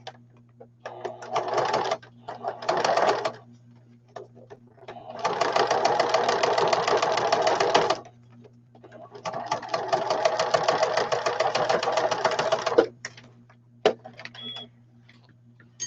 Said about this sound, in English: I'm going to hold the opening together And I'm going to stick it underneath the presser foot.